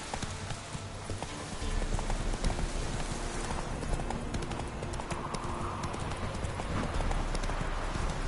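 Galloping horse hooves in Witcher 3 on PS5, a continuous fast clip-clop rhythm at close range with ambient game sound and no speech.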